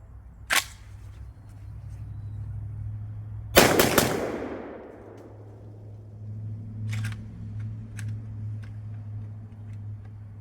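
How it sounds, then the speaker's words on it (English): A Riley Defense RAK47-T-MFT AK-style rifle fires: a sharp loud report, then a heavier blast with a trailing echo a few seconds later, and fainter cracks near the end, all over a steady low rumble. "Going to do a rapid fire, 3-round rapid fire"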